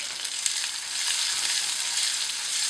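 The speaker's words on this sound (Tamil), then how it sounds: "வெங்காயம் நல்லா வதங்கிடுச்சு" Small onions sizzle steadily in a hot pan while being cooked down for a spicy tomato chutney, giving a close, continuous frying hiss with light stirring and no voices.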